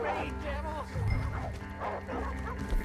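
Dogs bark and yip in Red Dead Redemption 2, a cluster of quick barks and whimpers close by, mixed under someone talking over the game action.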